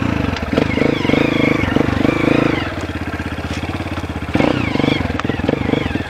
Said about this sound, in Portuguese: Vamos lá andar então com a motoca agora.